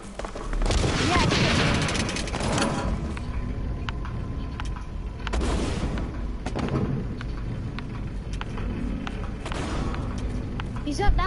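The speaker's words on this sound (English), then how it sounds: "Why are you shooting him when you can't shoot him from there?" Gunfire in the shooter game Blacklight, dense overlapping bursts and booms running throughout, with players talking over the shooting.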